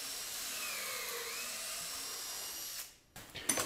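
A power drill bores through a wood workpiece clamped in a mini angled pocket-hole jig, a steady high whine for nearly three seconds that cuts off abruptly, followed by brief clatter.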